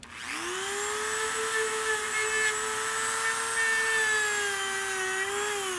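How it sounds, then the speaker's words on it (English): A Dremel rotary tool fitted with a wire brush works rust off a metal table, spinning up and then holding a steady, close, high-pitched whine with no talking. "you could easily grind it off with the wire brush, prep the surface for paint"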